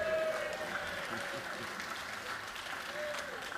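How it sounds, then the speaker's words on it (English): Audience applauding for a U.S. Senator at a House chamber gathering, a sustained wash of clapping from a large crowd that carries steadily from start to finish. "y'all clapped at the right time"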